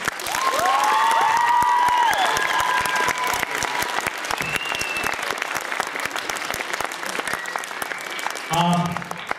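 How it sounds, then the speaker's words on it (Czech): Loud, sustained applause from a large audience at a school student performance contest, with whoops and shouted cheers rising over the dense clapping, and a voice briefly breaking through near the end. "oba kluci si zaslouží veliký potlesk"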